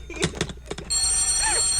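A telephone bell rings steadily and close in a recorded radio drama, the Sorry, Wrong Number LP read by James Mason, following a few seconds of someone talking.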